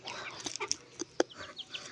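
A small backyard flock of chickens clucks in soft, scattered calls nearby, a few short sharp notes over a quiet background.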